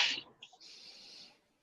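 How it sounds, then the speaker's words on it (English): A single close, sharp sneeze bursts out at the start during a sneezing fit, followed by a short breathy snort and a sustained hissing exhale that fades out. "I'm having a sneezing fit right now"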